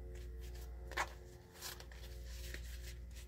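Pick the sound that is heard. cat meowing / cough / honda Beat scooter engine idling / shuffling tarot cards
shuffling tarot cards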